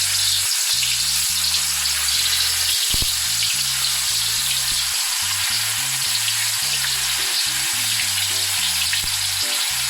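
Tofu slabs frying in hot oil with a little salt, a loud, steady sizzle crackling without pause throughout, close up and with no voices.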